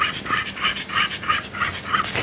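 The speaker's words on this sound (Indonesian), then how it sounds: "Nah kita bisa lihat ini ada anjing." Dog at a home in Mampang making a rhythmic series of about six short yipping, whimpering calls in the mid range, fairly close and steady over background noise, with no talking.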